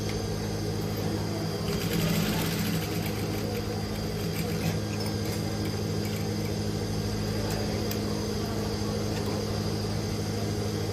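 A sewing machine runs steadily while top stitching, a continuous low mechanical hum and whir with a faint rapid rhythm, moderately quiet and unbroken throughout.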